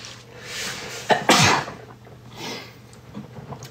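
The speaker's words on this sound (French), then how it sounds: "qui m'arrive extrêmement rarement, c'est d'éternuer dans cette putain de cagoule" A single sharp sneeze muffled inside a balaclava breaks out close to the microphone, preceded by a quick intake of breath, with soft breathing around it in a quiet room.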